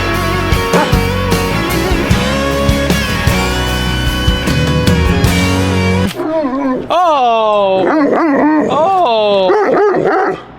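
Dogs fighting outdoors bark, yip and whimper in a busy, loud tussle, with barks rising sharply and repeatedly near the end; voices are heard through the scene.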